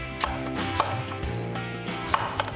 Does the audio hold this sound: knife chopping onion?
yes